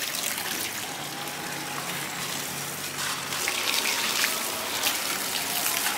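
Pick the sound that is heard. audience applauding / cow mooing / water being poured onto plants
water being poured onto plants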